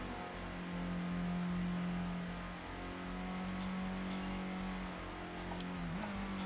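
A car driven in Gran Turismo in arcade mode: a steady engine drone with rising and falling revs while cornering, plus faint tire noise, close and continuous with no talk.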